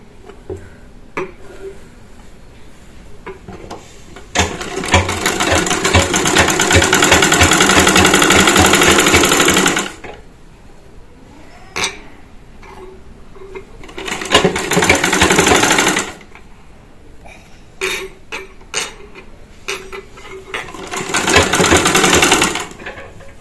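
A sewing machine stitches fabric for a baby panty in three rapid rattling bursts, the first long and the other two shorter, separated by quiet handling noises.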